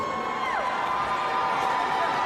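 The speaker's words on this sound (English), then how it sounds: "Ooh, did you hear that scream?" A crowd at a graduation ceremony screams and cheers as a name is announced, a distant, reverberant burst of whoops and shouts carried over a murmuring hall.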